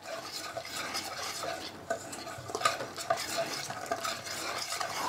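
Chicken pieces are mixed with masala and oil for a tandoori marinade, a soft, wet squelching and stirring with light utensil clicks against a bowl, continuous and fairly quiet, with no voices.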